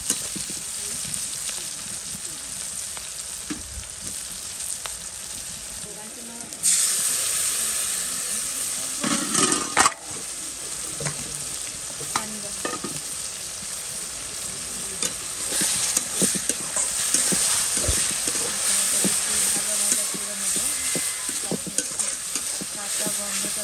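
Ginger and garlic fry in oil in a pan, a continuous sizzle that swells partway through as a spoon scrapes and stirs with repeated clatters, close and alone.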